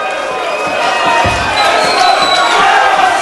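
A crowd cheering and roaring at a fight night boxing or MMA event, loud and sustained throughout, with shouts rising out of the noise.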